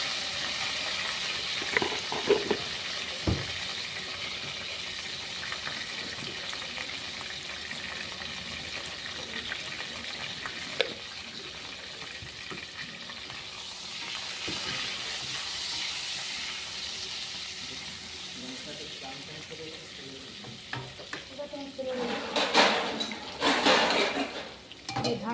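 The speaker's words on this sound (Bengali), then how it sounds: "বেগুনটাকে একটু লাল লাল করে এবারে ভেজে নেব, একটু নুন আর একটু হলুদ দিয়ে।" Eggplant pieces frying in oil with salt and turmeric for a bhetki fish curry, giving a steady sizzling hiss throughout, with a louder burst of sizzle and utensil clatter near the end.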